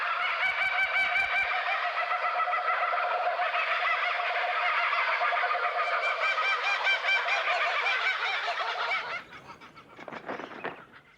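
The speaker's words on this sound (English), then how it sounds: "This chorus of raucous laughter from one group of kookaburras proclaims their territory to" Laughing kookaburras in the Australian bush call together in a loud, raucous chorus of rapid cackling hoots that runs for about nine seconds, then drops to a fainter, broken tail of calls.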